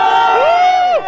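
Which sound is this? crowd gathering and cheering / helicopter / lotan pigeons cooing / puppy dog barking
crowd gathering and cheering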